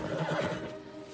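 A horse gives a short, close whinny, a quick wavering neigh that rises and then trails off into quieter background noise.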